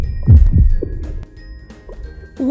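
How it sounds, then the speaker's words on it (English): A heartbeat plays as deep, soft double thumps with a low hum beneath, followed by a quieter stretch and another low throb near the end. "That's heartbeat."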